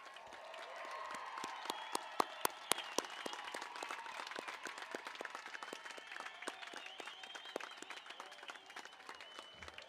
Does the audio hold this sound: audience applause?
yes